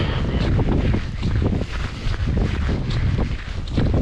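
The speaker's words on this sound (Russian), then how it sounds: "вот ветер холодный, очень холодно, аж обжигает лицо" Strong, bitterly cold wind buffets the microphone outdoors, a loud, continuous gusting roar with rough, uneven surges throughout and no voices.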